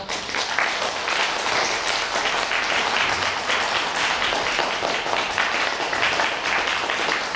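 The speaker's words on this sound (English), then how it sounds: "Let's have one more round of applause for all of you." After a winter student recital, an audience in a hall gives a dense, sustained round of applause, loud and even throughout with no speech over it.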